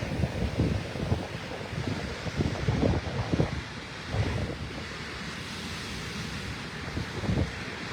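Deep booming surges of sea waves crashing in Thunder Cave at Loch Ard Gorge, several irregular heavy thuds over a constant windy roar, no voices.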